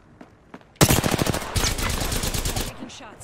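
Rapid automatic gunfire from a first-person shooter video game bursts in loudly after a quiet start, rattling in quick repeated shots for about two seconds before easing off.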